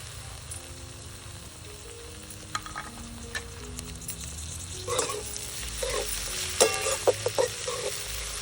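Chopped tomato frying and being roasted in a pan over a traditional wood-fired chulha stove, a steady soft sizzle with scattered scraping stirs that grow louder and more frequent toward the end.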